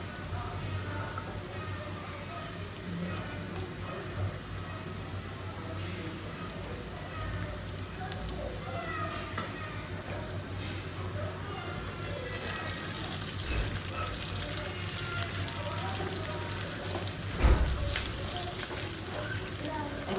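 Onions frying in ghee in a pan, a steady close sizzle running throughout with occasional stirring clatter and one brief louder knock near the end, with a low hum beneath.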